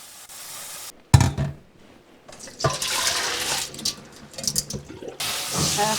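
Water runs into a pot for lentil soup in a home kitchen, gushing and splashing in uneven bursts after a short quiet start, with some pauses between pours.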